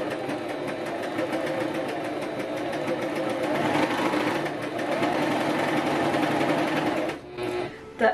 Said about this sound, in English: The exceptional thing about sewing with a chain stitch machine is that I will very rarely run out of bobbin thread